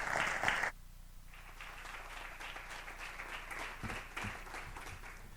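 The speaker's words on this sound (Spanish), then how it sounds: "un fuerte aplauso" Audience applause at an award ceremony for the Navarra Puerta de Europa prize presented to Josep Piqué during European summer courses. Steady, dense clapping from a seated crowd follows a brief voice at the start and continues evenly to the end.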